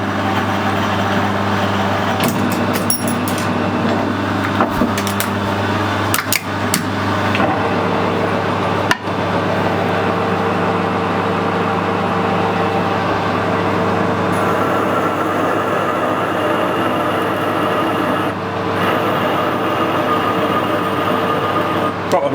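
Lathe machining bronze bolt stock in a workshop, a steady, loud droning whir with a constant low hum running throughout, broken by a few brief clicks and scrapes of the cut.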